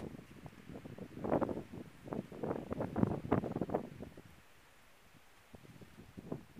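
Cold wind gusts outdoors after light overnight snow, buffeting the microphone with rough rumbling bursts that swell in the first four seconds, ease off, then return more faintly.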